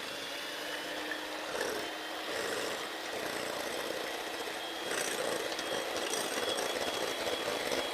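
Eggs being beaten in a bowl, with a steady, loud whirring drone that runs unbroken for the whole stretch and swells slightly partway through, no voices over it.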